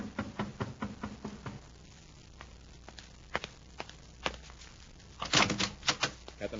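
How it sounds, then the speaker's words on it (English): Radio drama sound effects: sharp wooden knocks at a door and footsteps in a quiet room, sparse at first and then a close, louder cluster of raps toward the end. "there's another knock at the door."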